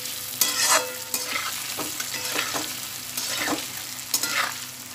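Half-boiled potatoes dusted with red chili powder fry over high heat for Mughlai aloo sabzi, a continuous loud sizzle broken by repeated scraping stirs of a spatula in the pan, no voices.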